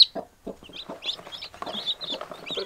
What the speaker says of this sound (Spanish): Porque los pollitos están gritando del frío.